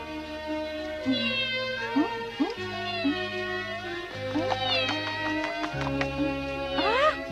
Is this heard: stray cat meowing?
yes